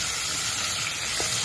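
Curry leaves and onion crackle and sizzle steadily in hot oil in a pan, a close, continuous frying hiss with no talking over it.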